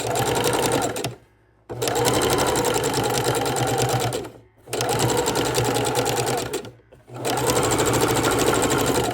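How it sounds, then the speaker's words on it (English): A home sewing machine stitches fabric for a scrappy raw-edge appliqué quilted table runner, running in loud, steady rocking bursts separated by three brief pauses. "So you get a feel of how it's pulling back and forth the fabric and making a jigger jigger sound."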